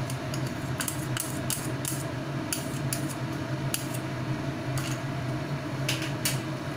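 Rice flour batter is stirred into a bottle gourd payesh in a pot, with a spoon clinking and scraping in quick bursts over a steady low hum of cooking.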